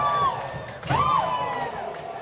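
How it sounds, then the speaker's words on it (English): A home crowd cheers and whoops loudly at a youth volleyball championship game just after the score is tied, with shouting voices surging through the whole moment. "And home crowd going wild here as the game is now tied."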